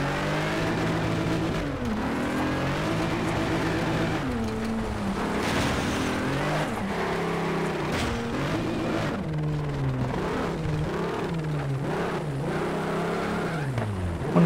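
Racing car engine in Need for Speed Shift 2, revving loudly and continuously with rising and falling pitch as gears shift, a constant close-up game engine roar with no talking.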